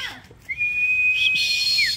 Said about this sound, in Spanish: Silba vos, dale, silba vos.